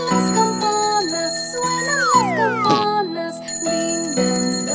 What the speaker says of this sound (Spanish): Estás durmiendo, hermano Juan, suenan las campanas,